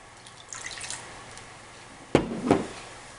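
Water poured into a trout brine of salt, garlic and pineapple juice, heard as a short close splash and gurgle near the end, with faint clinks earlier.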